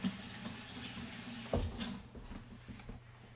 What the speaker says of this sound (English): let me wash 1 more egg